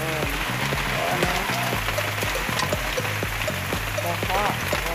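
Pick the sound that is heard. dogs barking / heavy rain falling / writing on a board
heavy rain falling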